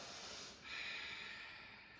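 A single soft exhaled breath during a yoga session, a brief close hiss of air through the nose, faint and alone.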